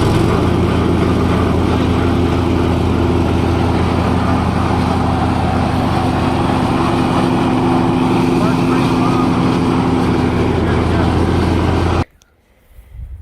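Scag Liberty riding mower engine running at about half throttle or more with the blades engaged, a loud, steady close drone holding without a break before cutting off abruptly near the end.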